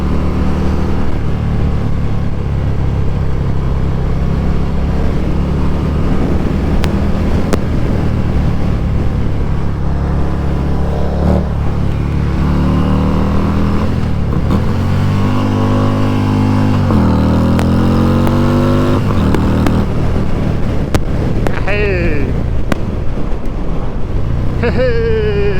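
A 2024 Harley-Davidson Road King Special with a Stage 3 Screamin' Eagle kit accelerates on the road, its deep V-twin rumble climbing through repeated revving surges with wind noise, loud and close, with a rider talking at times.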